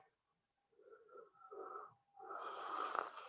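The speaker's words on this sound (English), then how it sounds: "Go full breath in." A deep inhale during a yoga breathing exercise, drawn in as a long airy breath after a couple of softer breath sounds, close and fairly loud with no talk over it.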